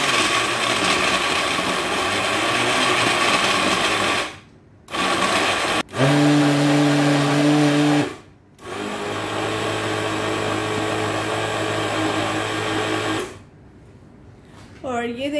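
A kitchen blender whirs loudly while blending a green smoothie of banana, spinach and avocado, its steady motor drone broken by a few short pauses and restarts.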